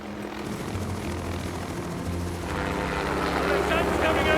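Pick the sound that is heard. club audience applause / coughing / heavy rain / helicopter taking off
helicopter taking off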